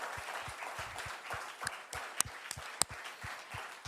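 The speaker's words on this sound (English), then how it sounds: "a thundering round of applause for the verdict" Applause at Twinkle Khanna's book launch, a thin, faint patter of scattered hand claps in a loose rhythm with a few sharper claps standing out.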